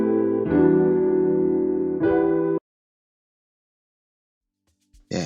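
Jazz guitar and piano chords from an FL Studio jazz-inspired Afrobeat production sound together, loud and sustained: one long chord, a second briefly struck, then silence and a short burst at the end. No talking.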